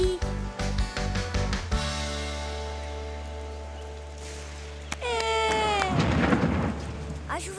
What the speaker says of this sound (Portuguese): A chuva voltou.